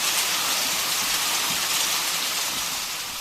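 Steady rain falls in a continuous, even hiss of drops on surfaces, heard close and fairly loud with no voices, easing slightly toward the end.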